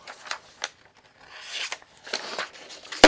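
A knife is drawn across a Gordon four-sided diamond grit sharpener, a series of close, raspy scraping strokes ending in a sharp clack.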